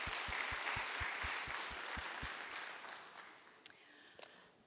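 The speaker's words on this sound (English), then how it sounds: "So can we give SEC and our panels a round of applause" A conference audience at a safety indaba applauds the panelists, a broad wash of clapping over a steady low thump that thins and fades toward the end.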